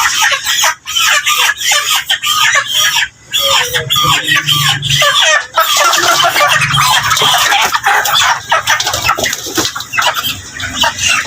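Several chickens cluck and squawk loudly and continuously up close while being handled and weighed, with a voice talking intermittently among the agitated flapping and clucking.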